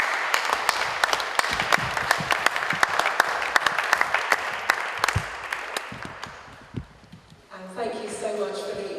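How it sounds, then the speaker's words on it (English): An audience in London applauds after a talk, clapping that starts dense and fairly loud, thins out to scattered claps, then gives way to a speaker's voice near the end. "if we could just give Wes a round of applause for just such a captivating."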